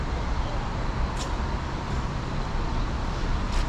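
Steady, dense road traffic in Chongqing rumbles overhead, a continuous broadband wash of engines and tyres heard from beneath the roadway, with no distinct individual vehicles standing out.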